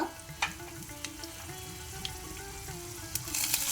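Cashews and pepper frying in ghee in a pan for ghee poha, a continuous soft sizzle with occasional sharp pops and crackles scattered throughout, growing busier near the end, no talking.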